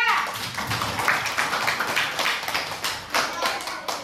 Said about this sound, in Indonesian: Oke, kita kasih aplaus untuk kelompok 3